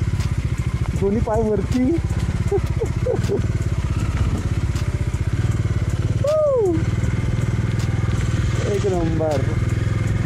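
A motorcycle rides in first gear down a rough, slippery downhill road through a water stream, its engine note throbbing steadily and close throughout while someone speaks briefly over it.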